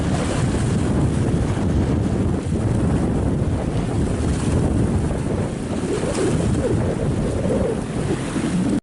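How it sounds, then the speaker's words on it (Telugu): Krishna River floodwater surges into the Jurala project in Mahabubnagar district as heavy upstream rain swells the flow. A loud, steady roar of rushing water runs unbroken through the whole stretch, mixed with wind buffeting the microphone and no voices. "ఉమ్మడి మహబూబ్నగర్ జిల్లాలో కృష్ణానది పరవళ్లు తొక్కుతుంది"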